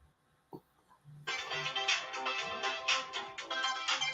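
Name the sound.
phone ringtone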